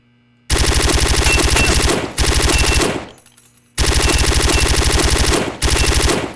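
An automatic gun fires in RealRTCW, a loud, close run of rapid, even shots in long bursts separated by short gaps and one longer pause, with no talking.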